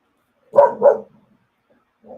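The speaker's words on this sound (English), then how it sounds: "You got the dog." A dog gives two quick barks in close succession, fairly near and clear against silence, followed by a softer brief sound a moment later.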